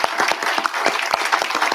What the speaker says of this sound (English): And while you're clapping